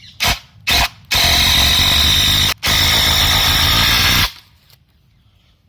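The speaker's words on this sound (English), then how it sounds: "So let's just screw this one in." A power drill drives a screw into the timber framing of a shed side wall, starting with two short blips and then running in two long, loud, close whirring bursts before stopping.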